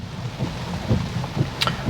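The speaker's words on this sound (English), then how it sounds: "this isn't really that bad of rain" Rain drums steadily on a car driving on Detroit roads, a constant low wash with scattered droplet taps and a faint high tick near the end.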